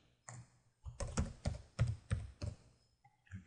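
Typing on a computer keyboard: a short run of about eight distinct key presses in quick, uneven rhythm, close and clear in a quiet room.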